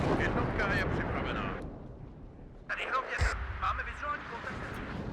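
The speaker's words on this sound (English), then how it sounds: "the artillery coming in there is perfect" Artillery barrage in the WARNO real-time strategy game, with dull low booms and crackling impacts rumbling in a dense wash, one sharper blast standing out near the end, with a voice talking over the battle.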